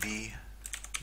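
Several quick keystrokes on a computer keyboard as a short command is typed in a Windows command window, closely recorded after a brief tonal sound at the start.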